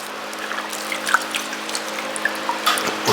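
Water trickles and drips as a sponge wets the edge of a clay slab during pottery shaping, with scattered small drips and a thin trickle over a quiet background.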